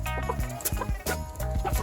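A big, heavy, aggressive rooster on a farm clucks in short repeated low bursts, close and fairly loud, with other fowl noise around it.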